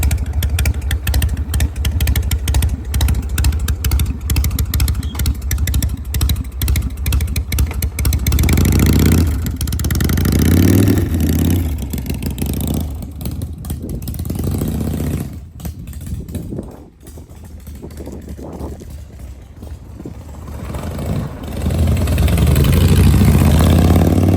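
A Harley Shovelhead motorcycle engine, fitted with a new throttle, runs loud and close with a lumpy, clattering idle, broken by several throttle blips and sustained revs that rise and fall, ending on a strong rev.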